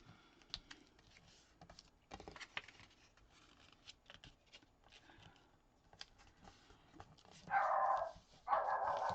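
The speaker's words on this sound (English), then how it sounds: "And I'm sorry about the dogs" Dogs bark in a room during paper crafting, two short loud bursts near the end after soft paper handling and rustling.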